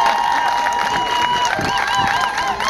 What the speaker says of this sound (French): Bon, applaudissez alors.